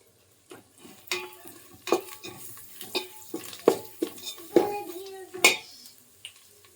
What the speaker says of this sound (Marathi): आणि आता हा काय करायचा थोडासा हलवून घ्यायचा व्यवस्थित